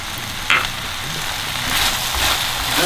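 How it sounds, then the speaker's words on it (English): Chicken stir fry sizzles in sesame oil over high heat, a steady close crackling hiss throughout with a brief utensil scrape near the start and no talk. "And stir fry it for another 30 seconds."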